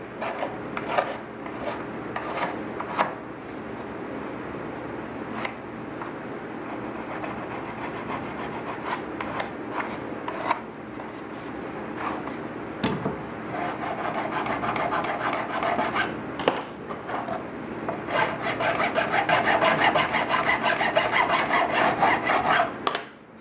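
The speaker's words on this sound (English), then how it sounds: "I'm going to take this file again. I'm just going to kind of work it." A hand file rasps against a helmet shell in long, repeated strokes, close and fairly loud, with quicker and brighter scraping toward the end.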